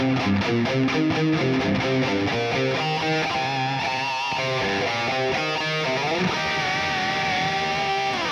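Distorted electric guitar plays a riff, dense chugging chords ending on held notes shaken with aggressive finger vibrato, loud and unaccompanied by speech.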